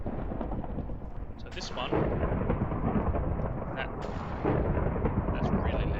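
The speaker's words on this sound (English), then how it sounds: "that's really loud, that thunder, and it's only going to get worse" Loud rumbling thunder rolls continuously in Minecraft, a heavy broadband roar that swells around two and four seconds, with someone speaking briefly over it.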